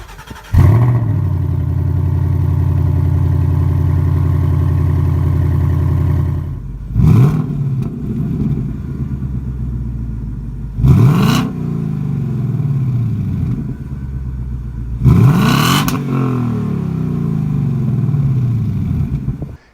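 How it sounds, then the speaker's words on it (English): A Ford Mustang 5-litre V8 with stock exhaust idles with a deep rumble, then roars through three sharp revs that fall back to idle, loud and close. "When you then take the 5 litre Mustang, listen to this."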